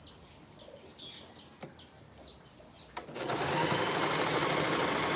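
A sewing machine stitching scrappy quilt stars starts up close after chicks peep in the background, settling into a steady, loud mechanical whir that runs to the end.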